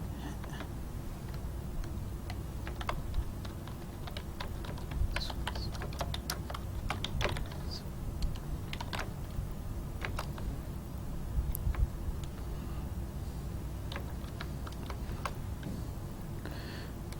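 Typing HTML code on a computer keyboard, a steady run of light key clicks with occasional louder taps, continuous and close, with no voices.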